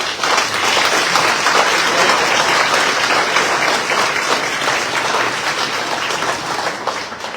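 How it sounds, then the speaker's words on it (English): A crowd at an NAACP candidate forum and mayoral debate in Meridian applauds the mayoral candidates, a loud, dense, continuous wash of clapping that holds steady throughout and tapers slightly at the end. "if you would like to applaud the mayoral candidates, this will be your opportunity to do so"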